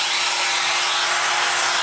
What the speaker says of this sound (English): now you've got the vacuum going.